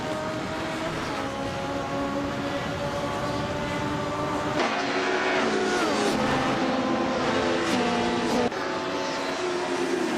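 Race cars roar through a racing video game, several engines droning and whining together with rising and falling pitch sweeps as cars pass, mixed with game music and steady background noise.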